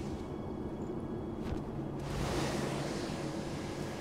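A rushing wind gust from a character's power in Sekiro: Shadows Die Twice swells near the midpoint and holds as a broad, steady whoosh over a low ambient bed, with no speech.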